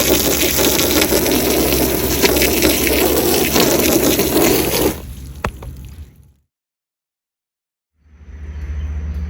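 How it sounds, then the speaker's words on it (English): Loud, broad hissing water spray from a hose on a back porch, with a pumping engine underneath, runs steadily, then cuts off abruptly into silence before resuming. "I'm gonna go ahead and spray everything and get it wet"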